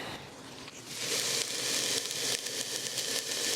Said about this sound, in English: We'll get you guys that sizzle.